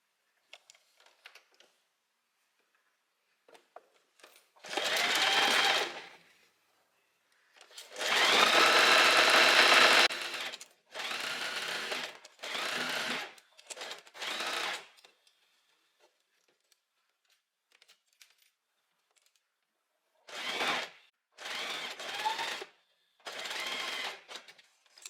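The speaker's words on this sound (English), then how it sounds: "So now I'm going to start sewing here, and I'm going to sew down here" A sewing machine stitching the front pieces of a wrap dress runs in several separate bursts of steady, loud mechanical whirring, with quiet pauses between runs.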